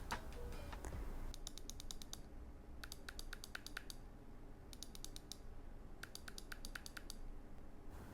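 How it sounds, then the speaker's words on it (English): Left and right button clicks of an Apple Magic Mouse 2 come in four quick bursts of sharp, close clicks, each burst a rapid run of about six taps, over a steady low background hiss. "the right click sounds different than the left click"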